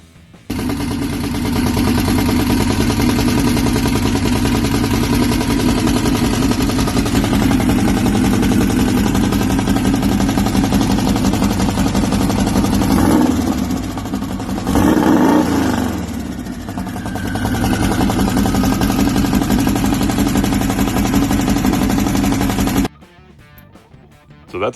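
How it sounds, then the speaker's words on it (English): A VW rail buggy's 1835cc engine with dual carbs runs loud and close with a steady, throaty idle, briefly wavering midway before cutting off near the end. "So that's a full turbo kit that Greg built and had it on this thing and running it"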